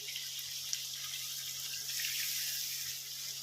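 Water running from a tap to rinse a bowl for mutton curry, a steady close hiss of flowing water lasting a few seconds with a low hum underneath.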